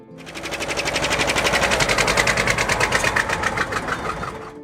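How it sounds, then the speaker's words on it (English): A two-cylinder John Deere tractor engine chugs close by with a steady, deep, uneven-rhythm beat, loud and continuous with no talking. "chugging along with that deep, rhythmic beat only a 2-cylinder Deere can make"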